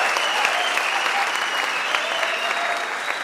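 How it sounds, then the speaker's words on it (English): A large crowd of MBA and Executive MBA graduates applauds themselves at their graduation ceremony, dense, even clapping that holds steady and loud throughout. "Yes, you can applaud for yourself"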